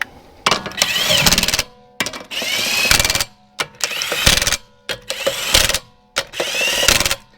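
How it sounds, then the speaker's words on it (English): A cordless impact wrench, a rattle gun set to its lowest torque, tightens wheel nuts during rear brake work on a Hyundai Veloster, firing five loud hammering bursts of about a second each with brief silent gaps between. "I've deliberately set the rattle gun to the lowest torque setting, so it sounded like it was running out of battery"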